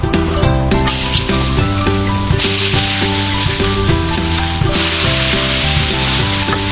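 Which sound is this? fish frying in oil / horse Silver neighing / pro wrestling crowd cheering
fish frying in oil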